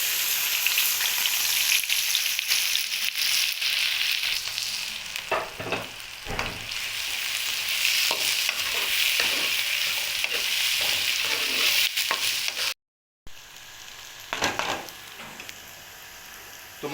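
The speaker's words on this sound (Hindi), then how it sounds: "ये हमारा गर्म हो चुका है, इसमें डाल देंगे प्याज।" Sliced onions frying in hot oil in a pan, a loud continuous sizzle with intermittent scraping stirs, briefly cut to silence near the end before the sizzle resumes; no talking.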